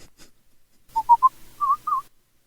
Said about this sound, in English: Where's that Aztec death whistle?